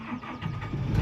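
A digger's diesel engine turns over and catches, rising into a steady close idle as it starts warming up.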